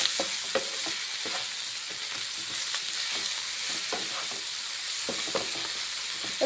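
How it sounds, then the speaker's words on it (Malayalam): Beef liver roasting in a pan with black pepper, giving a loud, dense, unbroken sizzle with intermittent stirring scrapes and taps of a spoon, heard up close and alone. "നമ്മുടെ ലിവർ റോസ്റ്റ് നല്ലപോലെ റോസ്റ്റായി വരുന്നുണ്ട്."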